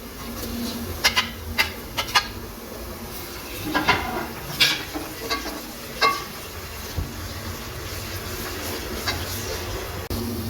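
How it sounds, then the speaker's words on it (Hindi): Chopped onions and whole garam masala frying in a pot for aloo keema samosa filling, a steady low sizzle under sharp intermittent clinks and scrapes of stirring, moderately quiet and close. "थ्री टेबलस्पून हमने इसमें प्याज ऐड करना है जो कि हमने चॉप किया हुआ।"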